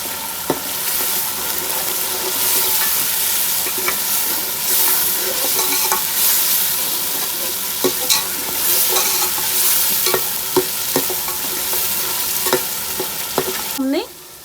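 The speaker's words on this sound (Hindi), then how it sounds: "मसाले को 5 मिनट तक अच्छी तरह भून लेंगे।" Spice masala frying and being stirred in a pan, a steady loud sizzle with repeated scraping strokes of the spoon, close up, continuing throughout with no talk.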